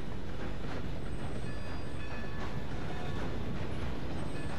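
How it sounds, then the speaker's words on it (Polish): A train rolls along rails in the Red Dead Redemption 2 video game, a loud continuous rumbling clatter with faint rhythmic clicks, steady and close throughout, with no voices over it. "Rytm właśnie jazdy pociągiem."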